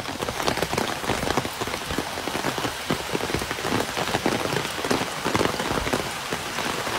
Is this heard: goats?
no